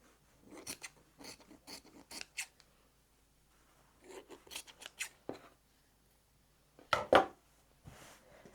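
Scissors snip through scrap fabric while trimming a quilt block, several quick crisp cuts in two bursts, a pause, then a louder close pair of snips, with no talking.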